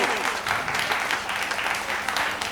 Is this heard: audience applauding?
yes